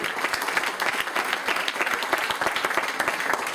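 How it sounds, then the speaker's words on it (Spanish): A church youth service congregation applauds steadily, with dense overlapping claps continuing without a break. "Un aplauso a Cristo por la vida de José."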